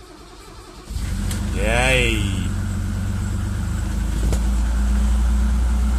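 A 1988 BMW E28 M5 cold-starts in below-freezing weather: a silent pause, then the starter cranks briefly and the engine catches and settles into a steady, deep idle while a voice cheers.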